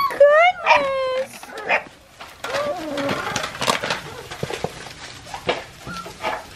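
Newborn puppies give high, wavering whimpers and short yips up close at the start, followed by softer scattered whines and rustling while a person talks over them.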